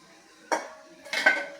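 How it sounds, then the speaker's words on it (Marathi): A metal dhokla container is set into a hot pressure cooker with water heated in its base, giving two distinct clanks of metal on metal, the second a longer scraping clatter, close and fairly quiet. "आता हा कुकरचा डब्बा आपल्याला त्यावरती ठेवून घ्यायचा आहे"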